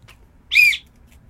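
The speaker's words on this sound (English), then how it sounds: "I'm loving this custom whistle that I got." A custom whistle gives a single short, shrill, bright blast, close and loud against a quiet background.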